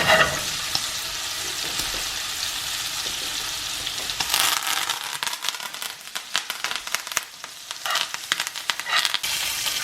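Steak sears in hot, smoking butter with herbs and garlic, a loud, dense sizzle and spatter that crackles steadily throughout, with bursts of sharper popping partway through.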